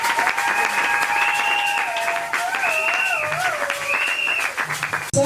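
Audience applause greets a pastor at an evangelical church gathering, a steady wash of clapping that runs throughout beneath a loud, sustained melodic voice or instrument.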